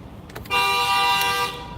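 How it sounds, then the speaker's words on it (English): A single car horn honks once, a steady tonal blast lasting about one second against faint background noise, with no talk. "What the fuck are you honking for?"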